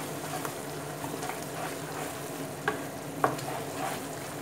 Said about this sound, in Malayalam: നന്നായിട്ട് മിക്സാക്കി കൊടുക്കുക.